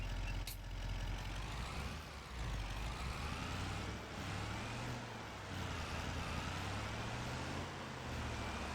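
A pickup truck with a snow plow hookup in Farming Simulator 25, its engine droning steadily with rising and falling revs over rough rolling noise.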